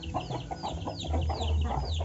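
Free-range native village chickens cluck and chatter nearby in soft, overlapping calls, with a low steady hum beneath them throughout.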